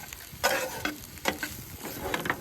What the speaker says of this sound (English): Let's stir all that up together.